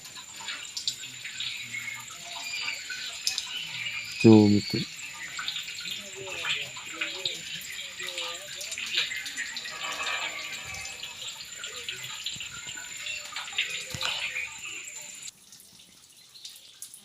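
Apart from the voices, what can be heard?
water continuously falling in a stream at temple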